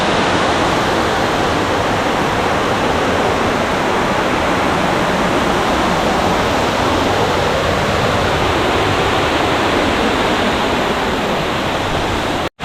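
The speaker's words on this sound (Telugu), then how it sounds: "కనబడట్లేదు కానీ ఫాల్స్ పెద్దదో ఉంది, ఫాల్ కూడా గట్టిగానే జారుతున్నాయి" Kaasipatnam waterfall near the Araku Ghat road, a loud, close, unbroken roar of heavily falling water that fills the whole span before cutting off abruptly at the end.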